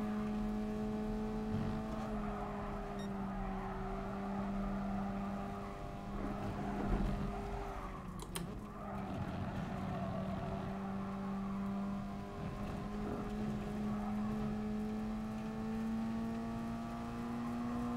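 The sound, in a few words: race car driving and hard braking in Gran Turismo Sport video game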